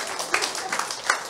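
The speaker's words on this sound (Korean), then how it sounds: "박수 한번 주세요." Short burst of applause from a small seminar audience, quick scattered claps lasting only about a second.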